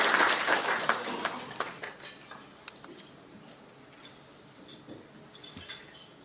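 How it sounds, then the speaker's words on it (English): An audience at an insurance company's EcoDrive cover launch claps as the CEO is welcomed to the stage, a burst of applause up front that thins into scattered, fading claps. "help me welcome to the stage with a round of applause, GA Insurance CEO"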